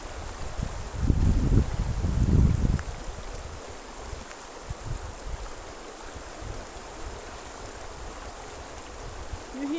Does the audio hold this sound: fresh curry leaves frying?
no